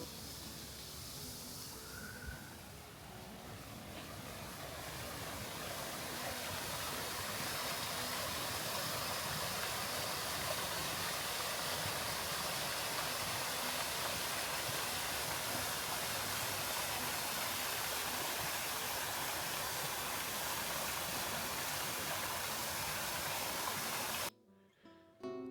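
Steady broad rushing of flowing water from a stream and fountains in the Campo Grande park garden in Valladolid, a continuous even wash that holds for about twenty-four seconds and then cuts off.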